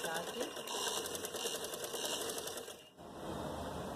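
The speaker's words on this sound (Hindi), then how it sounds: "नीचे आप सीधी सिलाई करें" A sewing machine runs in a fast, steady rhythmic clatter while stitching a straight seam on a puff sleeve, pausing briefly near the end before resuming, with a voice talking over it.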